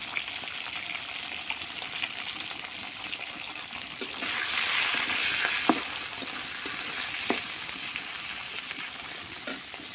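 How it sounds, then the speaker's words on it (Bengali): Hilsa fish and onions fry with a steady sizzling hiss that swells louder midway, with occasional crackles and soft stirring clinks. "মাছ আর পেঁয়াজগুলো ভাজা হয়েছে"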